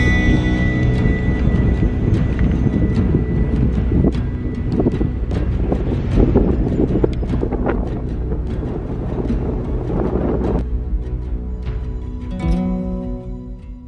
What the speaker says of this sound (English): It's a blustery morning here